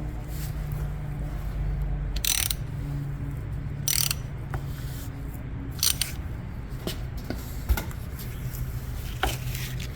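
A strap wrench unscrewing the top of an ITT Conoflow CNG regulator, with scattered metallic clicks, creaks and scraping bursts over a low background hum.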